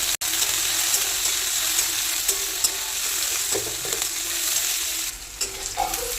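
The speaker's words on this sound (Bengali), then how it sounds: "দিয়ে দিব পেঁয়াজ এটাকে ভালো করে লাল লাল করে একটু ভেজে নেবো" Onions, added after cumin seeds, fry in hot oil in a pan with a loud, continuous close sizzle, broken by occasional stirring scrapes and soft knocks toward the end.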